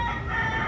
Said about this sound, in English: first thing out of the parking lot is roosters.